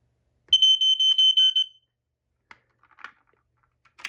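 A Kidde smoke alarm horn shrills in a rapid stuttering series of pulses for just over a second, loud and close, followed by scattered faint clicks and handling taps.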